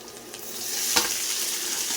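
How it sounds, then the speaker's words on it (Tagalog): Rice gets stir-fried in a pan for a morning breakfast, with a continuous bright sizzle, a soft scrape of stirring and one quick clink against the pan partway through. "Gisahin na natin yan. Ilagay na natin yung kanin."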